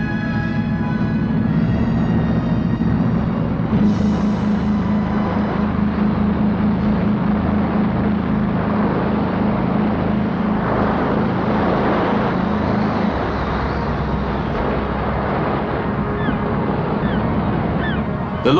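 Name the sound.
high-speed pilot launch boat from Folkestone at sea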